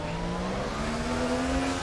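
A 1995 Mercedes C-Class DTM race car in a racing video game at Norrisring, a sustained buzzing engine note holding high and rising slightly, with dense tyre and track noise underneath, continuous and unbroken.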